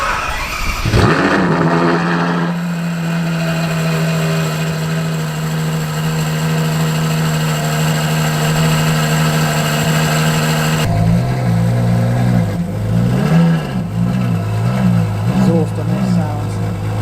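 Ferrari 812 V12 engine revving loudly and close, a steady high-pitched hold for several seconds before dropping into rising and falling blips of throttle.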